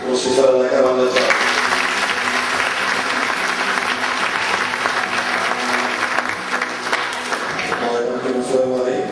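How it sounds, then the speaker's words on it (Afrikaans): An audience at a primary school Grade 7 prize-giving claps loudly and steadily, a dense sustained round of applause that rises quickly and holds before tapering, with a voice speaking briefly at the start and end. "Ons is vir 'n lekker hande klap."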